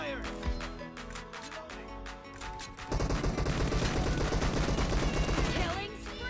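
Video game gunfire, at first scattered single shots, then a sustained loud automatic burst firing rapidly for several seconds, with a voice underneath.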